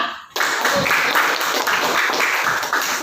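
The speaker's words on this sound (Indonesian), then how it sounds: "Tepuk tangan untuk semuanya." After a brief quiet moment, students in an Islamic religious education class break into lively applause, a thick, continuous clatter of many hands that holds steady and fairly loud to the end.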